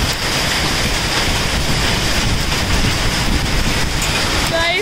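Heavy rain and hail pour down outdoors in Himachal, a dense, loud, unbroken hiss and patter of impacts lasting the whole stretch, with no clear speech over it.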